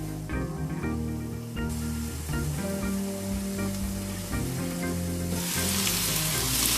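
Vegetables sizzle steadily in a hot pan while noodles are cooked, a close, continuous frying hiss with occasional clinks and shifts as pieces are added. The hiss swells louder near the end, and no one speaks.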